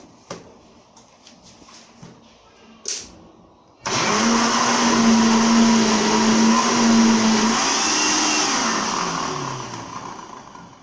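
A kitchen blender switches on after a few clicks and roars loudly and steadily for about seven seconds, purifying well-cooked pumpkin for Kenyan chapati dough. Its pitch wavers slightly as the load shifts, then the motor winds down.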